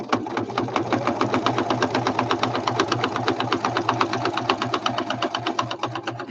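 A sewing machine runs a small zigzag stitch across journal pages, a loud, even stream of rapid needle clatter with a steady mechanical rhythm and no voices over it.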